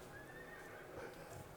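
A recorded horse neigh plays through the exterior speaker of a Zeekr 7X electric car, a faint, brief whinny with clip-clop sounds, heard alone over steady background hiss.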